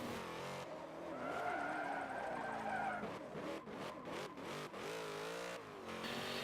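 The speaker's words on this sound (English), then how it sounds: "This is actually drifting really, really well" A car drifting in Forza Motorsport 7, with a loud steady engine drone and tires squealing and sliding as it sweeps through corners, with revs rising and falling.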